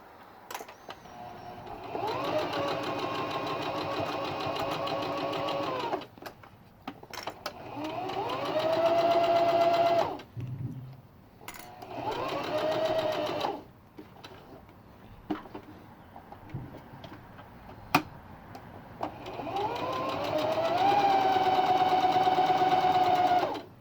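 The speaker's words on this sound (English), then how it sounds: "I'm following the edge of the presser foot as my seam allowance." A sewing machine stitches the seam of a fabric face mask in three long, steady runs with a rising and falling motor whine, separated by quiet pauses with small clicks, close and loud.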